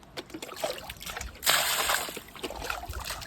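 Water splashes and trickles over a muddy tractor being washed outdoors, intermittent dribbles and slaps with one louder burst of spray mid-way, fairly faint overall.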